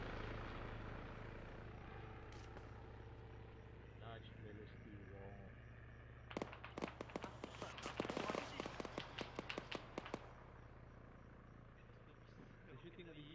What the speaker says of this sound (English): the helo is shooting at the missile